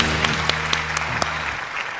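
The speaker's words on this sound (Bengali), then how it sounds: "একটা জোরে হাততালি হোক।" Short burst of audience applause at a stand-up comedy show, with scattered sharp claps over a fading hum and settling toward quiet by the end.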